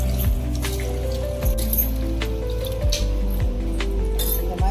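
Soaked dried anchovies rinsed in fresh water in a home kitchen: steady splashing and trickling water with drips and light clinks, close and continuous, beneath a low humming tone.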